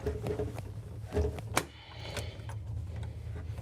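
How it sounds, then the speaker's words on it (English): A stiff exit door on a 2024 Newmar Ventana 4369 motorhome is worked open. Low rattling and a few sharp clicks lead to a loud latch snap, then quieter scuffing as the door gives way. "So this is an exit door, and it's not cooperating with me."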